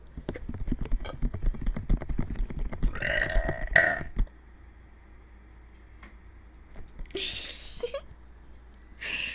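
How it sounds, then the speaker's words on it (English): A person burps during a relaxed, close-up whispered talk about a film, with two short, close belch sounds separated by quiet pauses after an opening stretch of soft clicking. "Oh, I need a burp."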